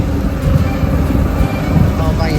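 A steady low boat motor rumble idles continuously at a mooring, with a voice speaking faintly over the motor.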